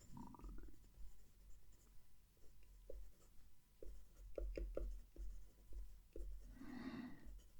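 A Jinhao 80 fountain pen writes a sentence on paper in a quiet room, with soft close scratches coming in short rhythmic strokes and pauses, ending in a louder rustle of paper.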